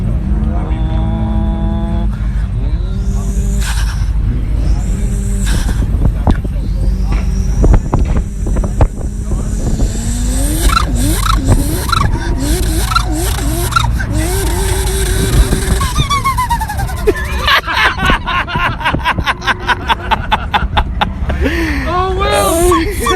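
A voice imitates a Holden VL car engine with a large blow-off valve, revving up and down in rising and falling tones, ending in hissing whooshes and sputtering flutters, with wind buffeting the microphone throughout.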